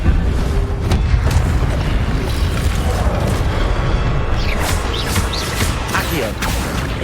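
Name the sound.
Expelliarmus spell impact in Hogwarts Legacy video game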